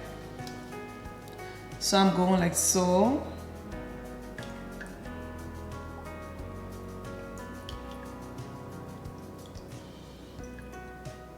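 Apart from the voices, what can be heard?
pouring lye into soap-making mixture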